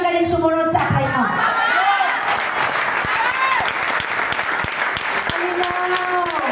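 An audience at a leadership training session breaks into loud, sustained applause of many hands clapping together, with some cheering and crowd chatter mixed in.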